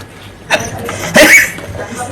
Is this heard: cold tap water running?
no